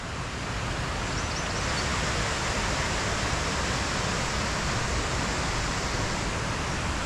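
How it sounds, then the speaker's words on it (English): Broadband, steady rushing roar of the Cotter Force waterfall, loud and continuous throughout with no voices over it. "But look at that beautiful waterfall."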